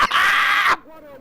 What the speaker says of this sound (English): He doing all that screaming, y'all.